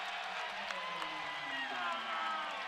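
A college basketball crowd at a Sacramento State versus Montana game cheers after a three-pointer, a broad steady roar with whoops and clapping, while a commentator's voice runs over it.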